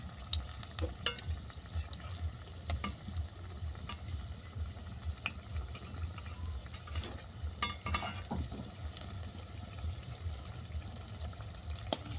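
Small banana malpua pancakes frying in oil give a soft, fairly faint bubbling crackle with scattered sharp spatter clicks, heard without talk.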